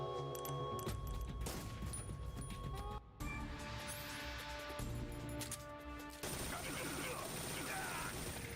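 Grenade blasts and gunfire from the video game Metal Gear Solid 3, a dense, loud run of bursts, crashes and booms that stays busy throughout, with a brief dip near the middle.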